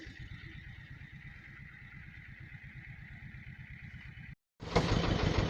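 A tractor engine runs in a forest, a steady low rumbling chug at moderate distance that continues evenly, then cuts out briefly before a louder burst of noise.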